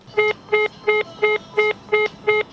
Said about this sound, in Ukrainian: вдалося почути лише короткі гудки